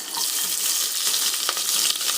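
Onions sizzle in ghee and oil in a pressure cooker with whole spices, a steady close frying hiss with light stirring taps throughout, no voices.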